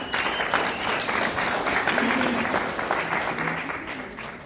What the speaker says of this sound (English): Give these people a round of applause as we sit down.